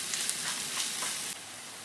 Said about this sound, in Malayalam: ഇപ്പോൾ സവോളയും വെളുത്തുള്ളിയൊക്കെ നന്നായിട്ട് വഴണ്ട് വന്നിട്ടുണ്ട്